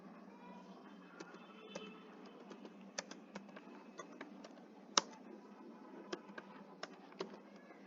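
Computer keyboard typing while company details are entered in Tally Prime accounting software: quiet, irregular key clicks with one sharper tap, over a low background hum, no speech.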